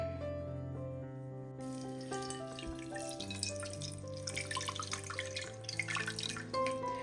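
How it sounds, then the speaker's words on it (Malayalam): Water being poured into a pressure cooker holding a cleaned, husked coconut, with one litre added in a steady drip-and-trickle, close, over a background of music. "ഞാനിപ്പോൾ ഒരു ലിറ്റർ വെള്ളമാണ് ഒഴിച്ചു കൊടുക്കുന്നത്"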